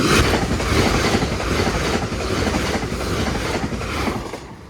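A passenger train bound for Holyhead from London Euston rushes past close by, a loud, continuous roar of wheels and rail clatter that begins to ease as it heads away.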